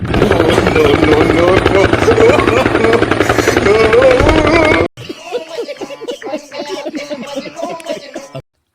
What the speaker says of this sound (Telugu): సీఎం వస్తున్నట్టున్నాడు, హెలికాప్టర్ సౌండ్ అది.